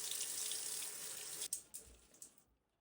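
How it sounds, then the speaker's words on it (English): Cold tap water runs steadily over cooked pho noodles to rinse them, then cuts off, leaving a few drips and soft clatters as it fades to silence. "Once cooked, rinse them quickly under cold water and let them drain."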